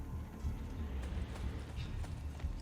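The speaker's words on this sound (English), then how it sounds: "Horse, get your butt over here." A horse gallops in Assassin's Creed: Brotherhood, its steady rhythmic hoofbeats close and fairly quiet over a low ambient hum.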